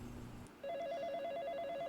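A telephone rings with a steady electronic warble that repeats through the second half, heard clearly after a brief low rumble, with no talking.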